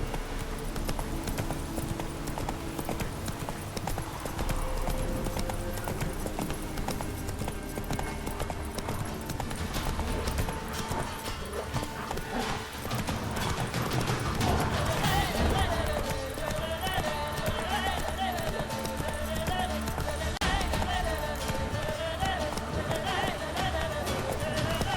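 Roach the horse gallops in The Witcher 3, hooves clip-clopping in a fast, steady rhythm throughout, mixed with game music and ambient sound, with spoken dialogue at moments.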